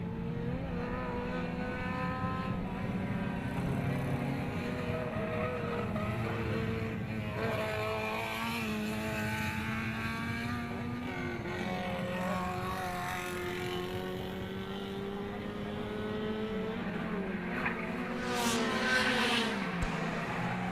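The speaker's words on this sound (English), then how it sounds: "That little Mini putting out about 140 brake horsepower on these modified engines" Modified 1050cc Mini race cars producing about 140 brake horsepower, a sustained buzzing engine drone with rising and falling pitch as the cars accelerate and change gear, several engines overlapping at close to middling distance throughout.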